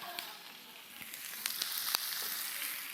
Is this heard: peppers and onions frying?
yes